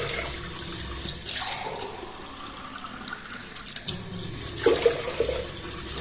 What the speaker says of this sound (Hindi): 3 गिलास पानी डाल देंगे।